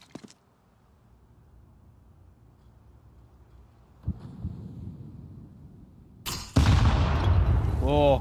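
A grenade goes off in an esports shooter tournament match: a sharp thump, then a loud blast that gives way to rough, rumbling game noise with faint voices underneath.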